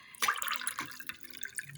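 Hot water poured into a salt and vinegar mixture for a homemade sore throat remedy, a close, steady splashing trickle that runs alone and unbroken through the whole short stretch.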